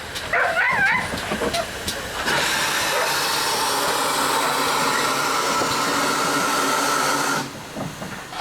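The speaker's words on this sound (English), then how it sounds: "Sure-footedly, the pair of Pannier tanks get their train underway to Totnes" A pair of GWR Pannier tank steam locomotives pull their train away from Staverton station toward Totnes on the South Devon Railway, giving a sustained loud rushing roar of steam and motion, with a dog barking at the start.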